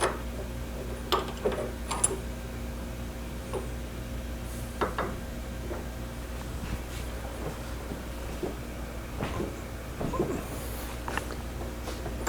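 A Vevor 8-inch manual hand shear works on a 5/16 bolt, giving scattered faint metallic clicks and ratcheting ticks over a low steady hum, with no talking.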